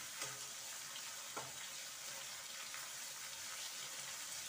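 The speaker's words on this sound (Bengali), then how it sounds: "প্রথমে ট্যাংরা মাছগুলোকে একটু হালকা করে ভেজে নেবো।" Tangra fish fry lightly in a pan, giving a steady close hiss of hot oil that holds level throughout, with a couple of small clinks and no talk.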